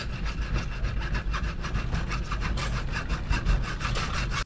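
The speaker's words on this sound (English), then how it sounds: "Alright, so I'm cutting this off with a cutoff wheel right here." Cutoff wheel grinding through a 3-inch PVC cap clamped in a vise, a steady loud abrasive whine with a gritty rasping texture that runs continuously for about four seconds before cutting off abruptly.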